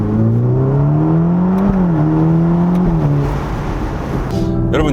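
A Ferrari Roma Spider accelerates with a steady, close engine drone whose pitch climbs, dips briefly at about 1.7 and 3 seconds as gears change, then settles lower near the end.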